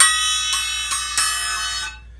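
An 8-inch Paiste accent cymbal is struck three times in quick succession, each hit a bright, shimmering ring that sustains and then fades out cleanly.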